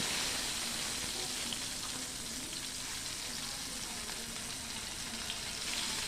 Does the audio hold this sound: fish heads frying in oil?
yes